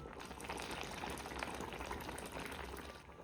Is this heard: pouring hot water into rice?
yes